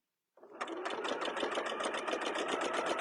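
A sewing machine doing free-motion quilting starts up from silence and runs steadily close by, its needle stitching in a fast, even mechanical rhythm throughout.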